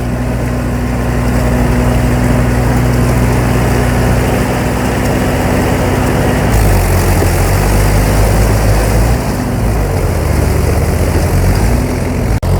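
Two tractors working a stony field, one pulling a harrow and one a puddler, engines droning steadily and loud throughout, with the pitch dipping and shifting partway through as the load changes.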